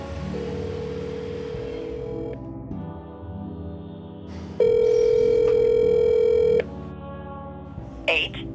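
Outgoing telephone call made from a house in Los Angeles: a steady ringback tone cycles with pauses, then a louder sustained tone sounds for about two seconds before a brief click and chirp at the end, with a voice speaking under it.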